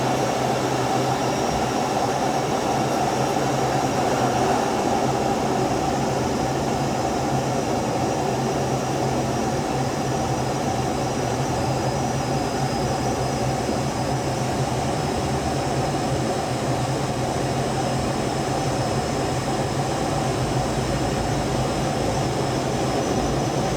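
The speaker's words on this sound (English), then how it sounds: "So here's a takeoff." Aircraft taking off near Johnson Space Center, a steady broadband engine roar holding at constant loudness throughout with no talk over it.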